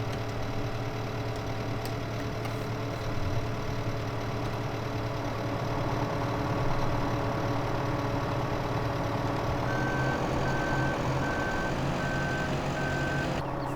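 In Farming Simulator 2015, a lorry at a silage pit idles with a steady engine drone, and a regular series of reversing beeps joins in near the end, loud and evenly spaced over the engine.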